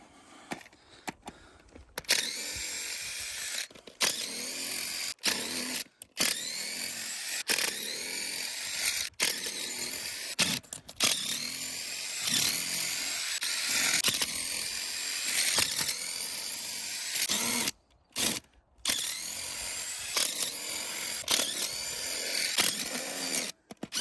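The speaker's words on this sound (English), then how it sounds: "hammer drill is the thing that really makes quick tear down and setup of this thing." A hammer drill whines and grinds in long bursts with brief pauses, loud and close, its pitch shifting as it drives into material.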